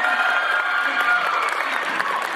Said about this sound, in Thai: ขอเสียงปรบมือด้วยนะครับ